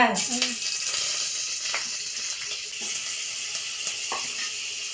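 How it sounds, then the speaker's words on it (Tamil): Oil and butter heating in a pressure cooker give off a soft, steady sizzle with faint hissing and a few light clicks, close but moderate in level. "நான் வந்து எண்ணெய் சேர்த்துட்டு கொஞ்சமாக பட்டர் சேர்த்துக்கிறேன்"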